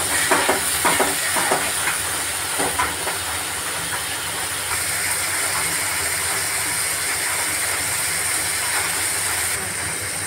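Ridge gourd frying in a pan, a loud continuous hiss and sizzle with a few clattering spoon knocks early on, steady throughout.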